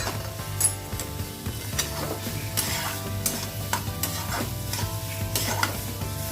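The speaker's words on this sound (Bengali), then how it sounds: "সয়াবিনটা আমি একটু ভালো করে নাড়াচাড়া করে এর জল ভাবটা টানিয়ে নেব" Soybean chunks with spices are stirred in a pan, a close, busy sizzle under repeated scraping strokes of the spoon, with a steady low hum running underneath.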